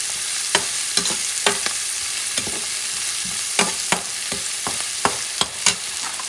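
Sofrito with cilantro and garlic sautéing in a pan gives a soft background sizzle punctuated by sharp, irregular spoon clicks and scrapes against the pan, close and fairly loud.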